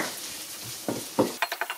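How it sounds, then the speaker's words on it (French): Peeled carrot and onions sautéing in a pan for a vegetarian chili give a soft, low sizzle, with a few scraping stirs and quick utensil clinks against the pan near the end. "Donc une fois que votre carotte est épluchée, vous l'ajoutez à votre préparation avec les oignons. Et pareil, vous faites revenir un peu"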